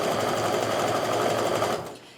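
A sewing machine stitches quilt block pieces together in one steady, fast, continuous run of needle chatter up close, which cuts off abruptly near the end.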